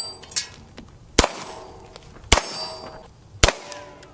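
Beretta M9A3 pistol firing, three sharp, separate, ringing shots with short echoing tails, spaced about a second apart against a quiet background.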